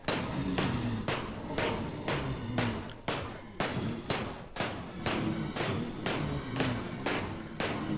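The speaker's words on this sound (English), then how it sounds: "Don't you just love the sound of crushing blaze?" Blazes being crushed in a Minecraft blaze XP farm, a rapid, regular series of loud hammering thuds, about two per second, continuing steadily throughout.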